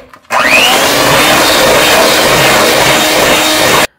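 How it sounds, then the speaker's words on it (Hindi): An electric hand beater whirs loudly and steadily, whipping cream into butter; the motor starts abruptly, runs at a constant high pitch, then cuts off. "ये वाला जो मिक्सर होता है ना, हैंड बीटर जो होता है, ये इसमें थोड़ा टाइम लगता है"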